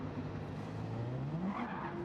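Race car skidding in Gran Turismo 7, a continuous engine drone with a sliding, rising tire-squeal pitch that sweeps upward near the end, loud and steady for two seconds with no voices.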